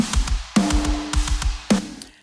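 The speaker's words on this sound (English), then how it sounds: "we start out with a snare. So it sounds like this." A punchy snare drum loop: sharp, crisp hits repeating in a steady rhythm with a low kick beneath, close and dry, with no voices.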